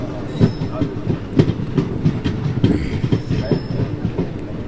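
Vijayawada–Macherla passenger train, running more than an hour late on a single line, rolls along with loud, rhythmic clickety-clack wheel beats and rumbling carriages, heard close from inside.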